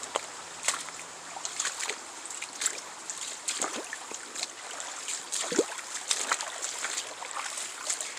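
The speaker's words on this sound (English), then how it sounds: "this creek runs year-round" A year-round creek runs beside a long line of connected 1-inch pipe feeding a ram pump, with a steady rushing wash and scattered splashes and gurgles close by.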